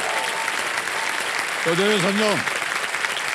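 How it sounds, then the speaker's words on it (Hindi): Studio audience applause on the KBC quiz show set, a continuous broad clapping wash with a voice speaking briefly over it midway. "एक बार जोरदार तालियां इनके लिए।"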